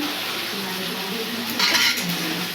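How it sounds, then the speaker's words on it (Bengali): Pointed gourd with curd sizzles steadily in a hot pan as it is sautéed and stirred, with a brief brighter hiss partway through and a close, continuous frying sound. "এবার একটু ভালো করে কষে নেব।"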